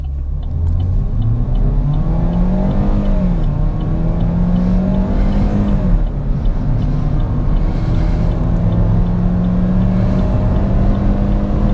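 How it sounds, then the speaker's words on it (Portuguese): A 2018 Chevrolet Prisma LTZ automatic revs up and accelerates hard from a standstill, a loud continuous roar with rising pitch that shifts through gears, close by with no talking. "vamos segurar no freio e acelerar"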